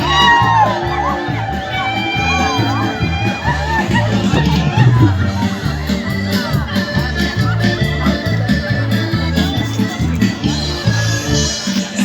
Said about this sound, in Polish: I kobiety piszczą!